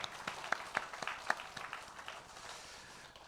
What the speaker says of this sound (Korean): 믿음으로 박수로 하나님께 영광을 드리겠습니다.